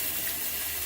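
A hose pours a steady hissing stream of water over a hot metal wrench, close and constant through one brief second, with no voices.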